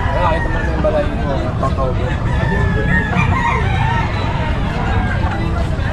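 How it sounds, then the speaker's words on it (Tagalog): Chickens at a busy outdoor pet market in Bocaue, among them silkies, crow and cluck amid steady crowd babble and people talking nearby. "Yan, bihira tayo makakita ng ganitong klaseng manok"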